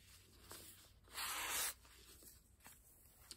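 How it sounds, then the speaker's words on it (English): Shaving cream being scraped off a sheet of marbled paper in a craft setting, a single soft hissing swipe lasting about half a second, close and quiet with no talk. "So just set it down and scrape that shaving cream off."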